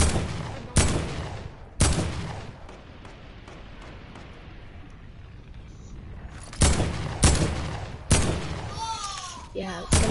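Video game gunfire while shooting down an enemy: loud, sharp bursts of shots in two clusters, near and punchy, with a quieter stretch in between and voices talking underneath.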